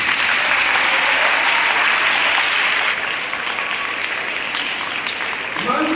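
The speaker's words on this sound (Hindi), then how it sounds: "मैं चाहूंगा कि उसके लिए आप ताली जरूर दें" A school audience claps loudly for a student who recited a long Hindi poem from memory at an Independence Day gathering. The dense, steady applause fills the room and eases slightly near the end.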